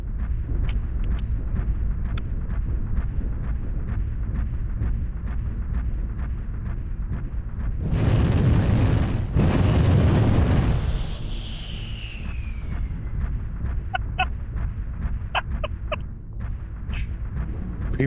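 Rocket launcher explosions in a mech video game: two big booming blasts land back to back midway, loud and roaring, then a falling whine trails off while sharp clicks and thuds tick steadily before and after.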